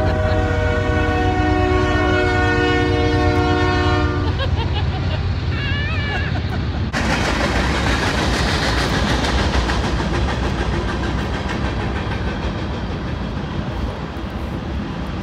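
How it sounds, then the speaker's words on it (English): A train rolls past close by, opening with a long, loud multi-tone horn blast that changes pitch, then the engine and cars roar and clatter steadily by for several seconds. "Here we go. Here comes this train."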